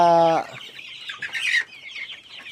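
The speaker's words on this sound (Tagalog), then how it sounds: "yung mga sisiw po dati oh" Young farm chickens raised from chicks cluck in their coop, a short tonal call followed by a run of brisk, close clucks with no talking.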